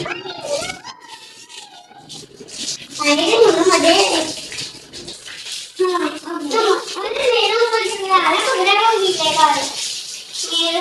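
Running water splashes and patters during a child's shower, close and continuous, under frequent talking from an adult and a child.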